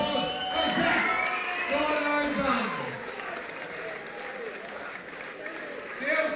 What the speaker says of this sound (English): Big round of applause for Zach.